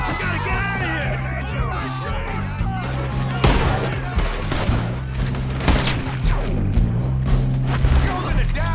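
Gunfire rings out in the Western video game Red Dead Redemption, with a burst of shots and loud, repeated cracks layered over music and shouting voices, people talking and yelling throughout.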